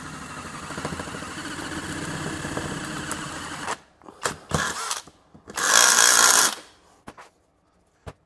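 A power drill whines steadily for nearly four seconds while boring a hole, then stops; a few short knocks and one more brief loud burst of drilling follow.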